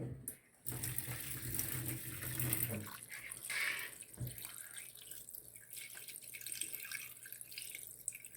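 Water runs steadily from a tap into a mixture being prepared in a kitchen, a continuous close splashing and trickling stream that stays fairly quiet, with no one speaking.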